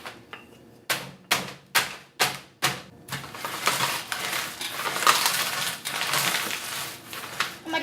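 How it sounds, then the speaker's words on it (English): Strawberries sealed in a bag are crushed with a rolling pin, opening with a row of sharp, evenly spaced whacks, then giving way to a dense, continuous crunching and rustling close up, with no talking. "So let's go ahead and crush these up."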